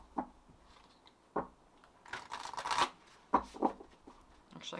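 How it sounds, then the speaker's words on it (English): A deck of oracle cards is side shuffled in short bursts of papery riffling and flicking, close by, with quiet pauses between each shuffle. "Actually, I kind of like side shuffling this one."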